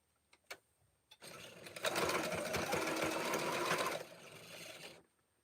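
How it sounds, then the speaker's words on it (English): Webbing for a quilt block is stitched on a sewing machine: a few clicks, then a close, steady whirring run of rapid needle strokes lasting about three seconds before it slows and stops. "So now I just pick it back up and finish sewing my webbing."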